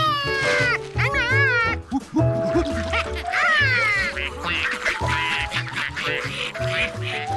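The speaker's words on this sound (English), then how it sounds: "Feed the ducks." Animated cartoon ducks in a children's show make loud, overlapping quacks and squawks that sound like cats meowing, with lively music beneath.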